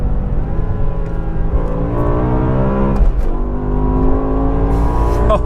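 BMW M5 E60 with its V10 accelerating hard in second gear on the Autobahn, a loud rising engine howl from inside the car, a brief dip as a shift lands, then the pitch climbs again.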